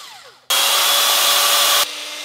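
A Makita cordless sheet metal nibbler switches on abruptly and runs in one loud, harsh, buzzing burst of just over a second, then cuts off sharply, heard close with no talking.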